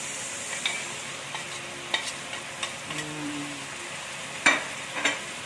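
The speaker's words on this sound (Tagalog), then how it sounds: "ilalagay na natin ang tokwa" Tofu frying in a pan for adobong sitaw, a quiet crackling sizzle punctuated by occasional clinks and scrapes of a spatula, close and fairly soft, with a couple of sharper taps near the end.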